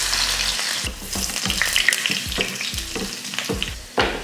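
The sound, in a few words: mustard seeds sizzling in hot oil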